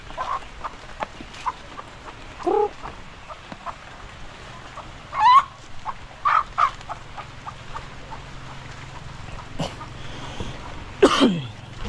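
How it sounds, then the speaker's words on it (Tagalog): A chicken clucks in several short, sharp bursts spread across a quiet outdoor background, fairly close and moderately loud. "May nagputak-putak na manok."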